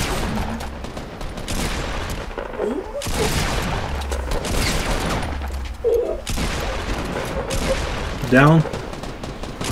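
Rapid bursts of gunfire in Fortnite Battle Royale crackle through a frantic firefight, with a few heavier booms, under excited shouting from players.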